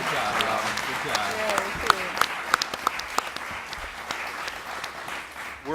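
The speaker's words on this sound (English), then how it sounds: "Give them a round of applause." Audience applause for city and county commissioners at a 2019 Tallahassee town hall, a dense crowd clapping with sharp individual claps standing out, while a speaker's voice carries over it.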